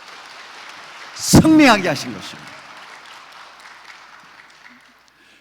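A church congregation claps during a worship service, a broad, moderate wash of applause that follows a pastor's brief spoken line and slowly fades.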